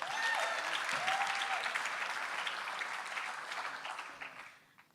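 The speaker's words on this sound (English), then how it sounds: "Please, would you give them another round of applause?" An audience at a writers' festival applauds the Zulu Rock band from Kwamashu, sustained even clapping at moderate volume with a few whoops, fading out in the final second.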